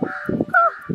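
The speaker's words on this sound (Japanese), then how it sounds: "カラスがすごいんやけど。" Crows cawing at Nishi-hama beach on Ishigaki Island, several harsh close caws in quick succession, loud and alone.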